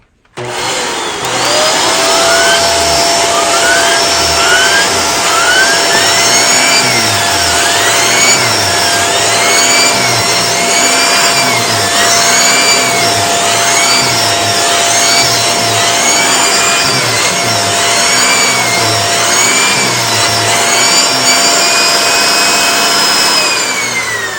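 A Shark NV801 Powered Lift-Away Speed DuoClean upright vacuum running with its turbo brush. A loud, steady close motor whine holds for the whole span, with a rhythmic warbling from the brush roll being pushed back and forth.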